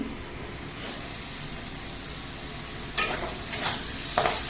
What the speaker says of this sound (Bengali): বন্ধুরা আমি আলুটা ভেজে নিচ্ছি নুন আর হলুদ দিয়ে আর এইতে দুটো কাঁচা লঙ্কা দিয়েছি